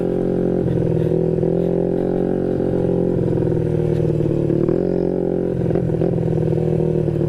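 A modified Yamaha Mio J 113cc motorcycle engine drones loudly and continuously on a test ride, running rough with a rich, wet mixture, its pitch rising and dipping as the throttle is worked.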